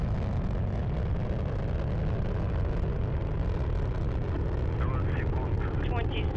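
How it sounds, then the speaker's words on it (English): Continuous low roar of a Soyuz TMA-05M rocket launch bound for the International Space Station, a steady dense rumble with faint radio chatter over it near the end. "of the Soyuz TMA-05M carrying Sonny Williams, Yuri Malenchenko, and Aki Hoshide on a two-day journey to the International Space Station."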